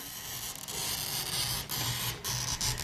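A steady, gritty scratching hiss of a glass cutter scoring glass, close up, with brief bursts of sharper scraping.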